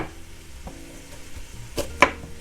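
Pork chops frying in a pan with onions, a soft steady sizzle running throughout with a couple of sharper crackling pops near the end.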